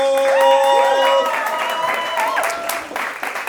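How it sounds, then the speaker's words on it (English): Applause and some cheering from an audience at a swing dance festival history talk, with voices whooping over the clapping before it fades and breaks into scattered claps. "Big applause for Martinkenaite, Lina, and Chester Whitmore"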